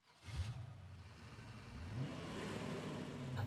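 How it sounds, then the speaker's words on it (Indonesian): A car pulls away from a house, its mid-pitched engine rising steadily as it accelerates over a few seconds, heard fairly close with no voices. "Bud melihat si pemilik rumah yang pergi mengendarai mobil"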